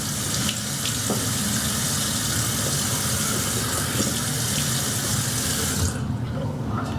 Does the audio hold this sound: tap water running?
yes